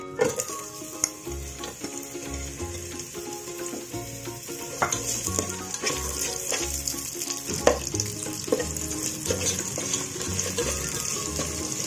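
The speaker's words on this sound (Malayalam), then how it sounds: "ഇത് നല്ലൊരു ഗോൾഡൻ കളർ ആവുന്ന വരെ നമുക്കൊന്ന് ഫ്രൈ ചെയ്തെടുക്കാം." Onions frying in oil in a pan while being prepared for a masala chicken fry, a steady close sizzle with occasional stirring scrapes and clinks throughout, no talk.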